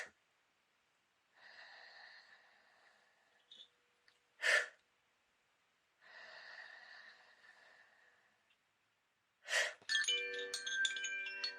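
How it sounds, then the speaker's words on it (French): Two long, deep inhalations, each followed by one short, forceful exhalation, close and fairly soft, paced slowly as in a guided meditation breathing exercise. Gentle tonal music comes in at the end. "On inspire profondément et on expire de façon courte"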